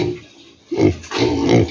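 A newly weaned pig grunts and oinks up close, a brief low grunt followed by a longer, louder burst of rough grunting, with no talk.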